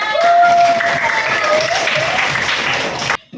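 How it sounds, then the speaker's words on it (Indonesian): Classroom of students clapping together at the end of a lesson, brisk steady applause lasting about three seconds, with a faint voice underneath, then stopping abruptly. "Kita kasih tepuk tangan."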